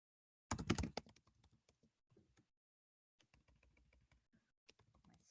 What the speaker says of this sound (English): I get nervous when I type in front of other people